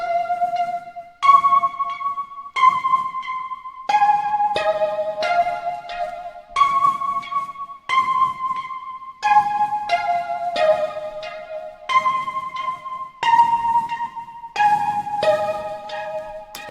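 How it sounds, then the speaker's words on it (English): A bright synth pluck plays a stepping melody of short, evenly spaced notes, alone and close, with no voices. "this one's just like a little pluck"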